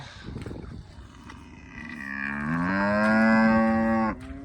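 Cattle on a farm give a long, loud moo that swells and holds for a couple of seconds, preceded by fainter lowing and shuffling, recorded close by in the open while the herd is being moved.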